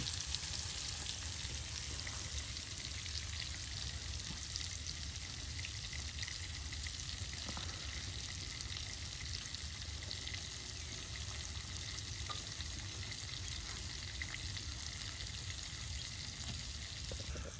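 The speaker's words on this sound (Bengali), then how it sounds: "এখন তেলে চুবু চুবু করে বেগুন ভাজা তৈরি করা হচ্ছে" Brinjal slices coated in spice deep frying in oil, a dense continuous sizzle and hiss that holds steady at moderate level throughout, with no talking.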